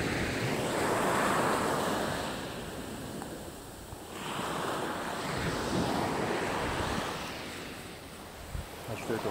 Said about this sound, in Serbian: Uz ovaj ambijent, znači uz ovo more.